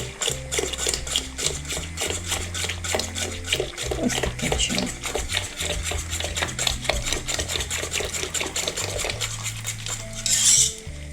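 Metal whisk scraping and clinking steadily against a saucepan while whisking custard, a busy rhythmic stirring with faint liquid sloshing, close up and continuous.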